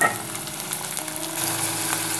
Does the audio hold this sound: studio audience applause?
no